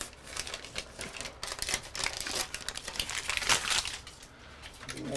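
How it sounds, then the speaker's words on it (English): Tape is wrapped and smoothed around a ventilation duct for a Panasonic WhisperFit DC fan, making continuous close crinkling, rubbing and rustling with irregular scratchy bursts. "Want to make sure you smooth that tape so no air's getting out"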